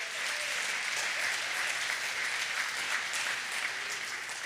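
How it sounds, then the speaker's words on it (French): A church congregation applauds its pastor with steady, dense clapping that holds an even, sustained level throughout, with no talk over it. "est-ce qu'on peut applaudir et acclamer notre pasteur?"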